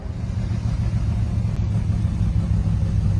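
A 1957 Chevrolet gasser rumbles loudly and steadily as it drives off, its deep, throaty engine note filling the clip with continuous low-end roar and no talking.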